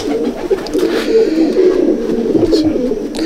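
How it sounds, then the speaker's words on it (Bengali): Young first-year racing pigeons coo in a loft, with several overlapping throaty, rolling coos close by in a steady murmur. "এবছরের পাট্টা পায়রা এগুলো"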